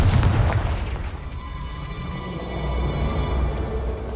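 A Confringo fire-blast spell in Hogwarts Legacy lands as one sharp booming burst, then fades into a crackling, rain-like fiery hiss and low rumble.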